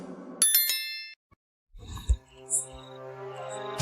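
A bright bell ding rings out as a subscribe-icon sound effect, a few quick metallic strikes up front, followed by a low thump and lingering tonal ringing.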